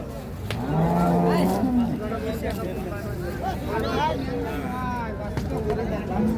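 A two-tooth Holstein Friesian dairy cow at a cattle market lows in long, drawn-out moos, loud and near, while people chatter in the background.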